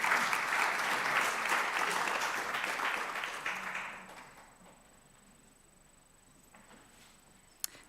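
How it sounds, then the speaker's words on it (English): Audience applause at a university Faculty of Education inaugural lecture, dense clapping that tapers off after about four seconds into near silence, with one sharp click near the end. "another round of applause for his response"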